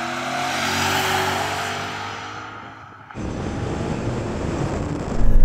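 BMW M5 cars accelerate hard in a rolling drag race from 30 mph in second gear, a loud engine roar that fades and then gives way to a sudden burst of broadband wind and engine noise.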